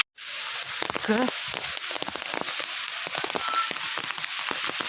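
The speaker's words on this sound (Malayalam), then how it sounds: "നല്ല മഴയാണ് കേട്ടോ" Heavy rain hisses steadily and densely throughout, with faint voices and occasional crackling drops beneath it.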